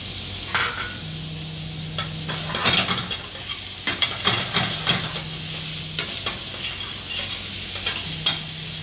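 Tomato being sautéed in a pan, with frequent spatula scrapes and clinks against the metal over a constant background sizzle, close and fairly loud, no talking.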